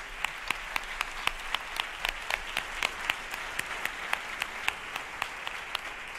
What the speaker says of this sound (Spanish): ¡Un aplausito!